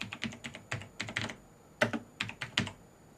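Keys clatter on a mechanical computer keyboard in quick irregular bursts of crisp clicks, close and clear, with a short pause midway before typing resumes; no talking.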